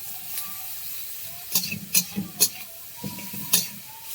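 Whole garlic cloves and whole onions fry in a pan on a new stove for a taro-leaf dish, a soft steady sizzle broken by several sharp scraping stirs close by.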